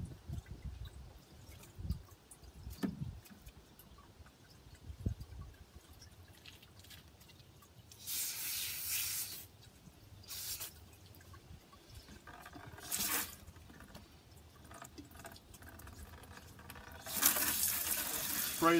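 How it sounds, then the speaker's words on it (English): Water sprays a filter clean into a clean bucket during gold recovery from scrap RAM sticks. Several short, hissing spray bursts stand out against quiet background handling noise. "Spray the filter clean."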